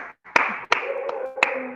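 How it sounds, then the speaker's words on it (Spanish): A few separate hand claps sound during an online question-and-answer session, irregularly spaced over a steady background hum, close and fairly loud. "Estamos recibiendo aplausos."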